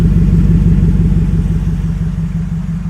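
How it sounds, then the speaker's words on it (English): A brand-new 2018 Callaway supercharged Silverado SC480 4x4 Z71 double-cab pickup idles after a remote start, its exhaust a close, loud, rhythmic low rumble that stays steady and fades slightly toward the end. "You can start it up, hear that exhaust."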